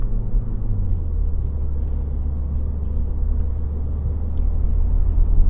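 A Mini JCW with automatic transmission, driven in manual mode, accelerating on the road as a steady, loud, low engine drone with road rumble that builds slightly toward the end, heard from inside the car without talk.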